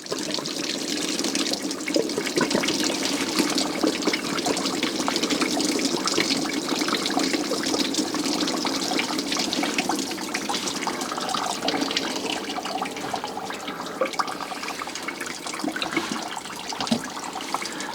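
Water from the sterndrive gearbox of a 1968 Starcraft Islander with a 120hp 2.5L Mercruiser pouring out in a continuous splashing, trickling stream close by.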